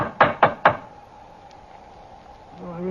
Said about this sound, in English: Let's try the knocker.